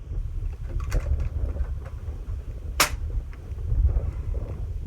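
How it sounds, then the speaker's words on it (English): A single suppressed shot from a 300 Blackout rifle fitted with a 338 suppressor, a sharp, fairly close crack in the middle over steady low outdoor rumble. "This 338 can on the 300 Blackout sounds awesome."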